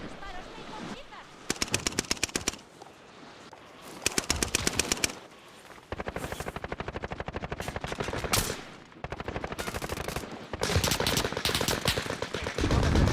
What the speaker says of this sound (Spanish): Los disparos me inmovilizan.